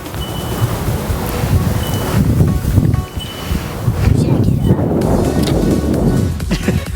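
Gusty wind buffets the microphone with a loud, rumbling roar that rises and falls, and people talk faintly beneath it.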